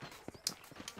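Horse hooves clip-clop in a Red Dead Redemption video game scene, the soft, irregular steps running through a short passage with game ambience underneath and no talking.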